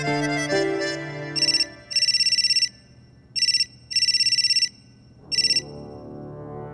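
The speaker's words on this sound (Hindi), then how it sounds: "किसका फोन था?" A phone rings with a repeating electronic ringtone, bursts of bright chiming tones in an uneven pattern, close and clear over a faint room background; no one speaks.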